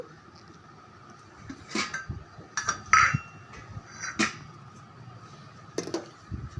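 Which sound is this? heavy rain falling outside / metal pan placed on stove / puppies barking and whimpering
metal pan placed on stove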